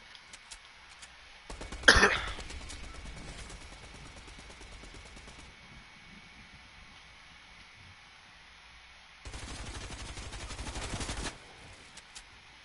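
Rapid automatic gunfire in Fortnite arena play, two dense bursts of fast repeated shots, one short sharp burst early and a longer sustained stretch later, with quieter gaps between and no talking.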